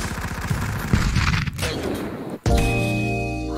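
Video game gunfire in a Christmas-themed Friday Night Funkin' game rattles as rapid blasts layered over game music, with a brief cut before a steady tone and continued sound effects.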